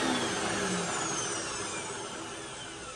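A Hoover T-Series Pet Rewind vacuum cleaner runs with its brush roll spinning and the clutch engaged, a steady loud broadband whir and hum that fades slightly over a few seconds.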